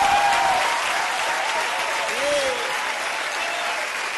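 Loud, steady applause from a crowd at a televised event greeting a singer, a dense wash of clapping sustained throughout with a faint tone running underneath.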